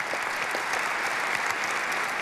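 Audience applause at a 2018 AIPAC speech by Senator Tom Cotton: dense, steady clapping from a large crowd, filling the hall evenly for a couple of seconds without a break.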